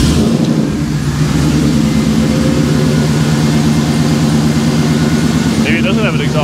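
A 1957 Chevy with an exhaust leak runs steadily and loudly, its engine note throbbing evenly, with a brief voice near the end.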